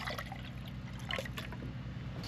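Water trickles and pours steadily close by, with a low hum beneath it, as 1.5 cups are added.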